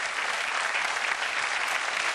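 Continuous studio audience applause on a late-night CBS talk show, a thick even wash of many hands clapping that holds steady with no break or talk.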